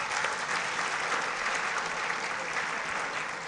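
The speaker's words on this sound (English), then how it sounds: "Can you give a clap for yourself?" Steady applause fills a hall at a university freshers' orientation, a dense wash of many hands clapping together at an even, continuous level for the whole stretch without a break.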